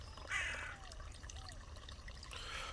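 A crow caws in a pumpkin-themed video game, a short harsh call standing out over a steady low background hum, with a fainter second call near the end.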